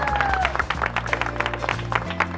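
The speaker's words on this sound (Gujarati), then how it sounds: "જોરદાર તાળીઓ દઈએ એમના માટે." A studio audience on a Gujarati game show breaks into applause for two contestants, dense clapping over background music, loud and close, with a voice briefly audible.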